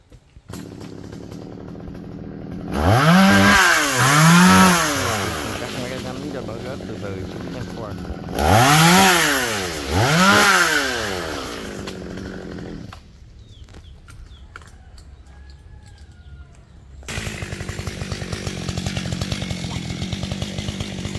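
A chainsaw cuts a golden-flowered acacia tree near a house in Lương Phi, Vietnam, with two loud bursts of revving cuts, each rising and falling, separated by quieter idling and followed by lower engine noise and background sounds.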